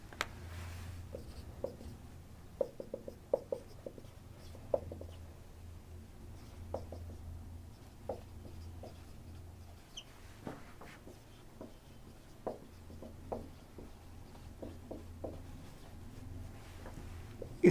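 Chalk or marker scratches and taps out text on a board during a chemistry lecture. The short strokes come in uneven clusters with pauses, set over a low steady room hum, and no one is talking.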